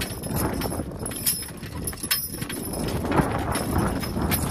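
A team of two young Belgian draft horses pulls a loaded manure spreader, hooves clip-clopping in an irregular walking rhythm close by, with a faint voice briefly in the background.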